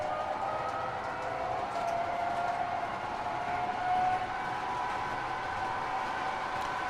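A scale model SD70ACe locomotive runs with a steady, moderately faint mechanical drone and a sustained tonal hum.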